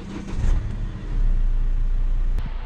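Engine of a used car with push-button start, either a Toyota Innova Crysta or a Hyundai Verna, running at a steady low rumble close by, with no one talking.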